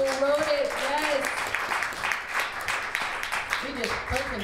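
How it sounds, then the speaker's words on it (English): Audience applause after a literary reading, clapping from a modest crowd with a voice speaking over the start and more voices rising near the end. "Round of applause for David, who wrote it."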